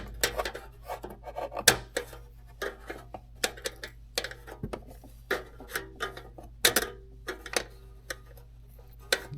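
A metal pick scrapes and ticks against the radiator screen of a Can-Am Spyder RT motorcycle, giving irregular close, quiet clicks and short rasps over a low steady hum.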